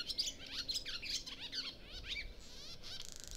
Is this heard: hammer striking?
no